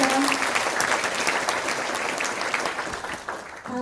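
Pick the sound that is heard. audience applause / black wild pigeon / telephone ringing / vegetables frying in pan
audience applause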